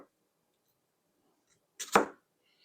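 A knife slicing through a ring bologna on a cutting board, heard as a single short, crisp chop after near silence, close and fairly loud, with no talk.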